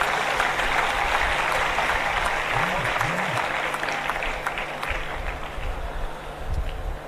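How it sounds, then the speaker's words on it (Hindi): Steady, dense audience applause fills a public function on stage in Uttarakhand, a broad wash of many hands that holds nearly level for several seconds with faint voices underneath. "इस बात पर सबको तालियां बजानी चाहिए।"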